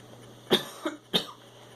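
A person coughs a few times nearby, two sharp coughs with a softer throat sound between them, against a quiet hum.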